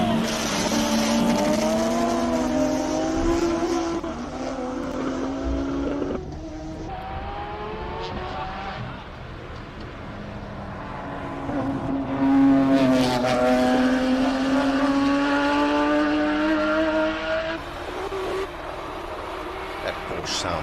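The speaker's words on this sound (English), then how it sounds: "That Porsche sounds incredible." A Porsche race car at the Simola Hillclimb roars past with rising and falling engine pitch through gear changes, loud and sustained under a commentator's talk.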